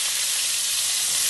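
Garlic and ginger hitting hot oil left from frying chicken, a loud, steady close-up sizzle with no voices.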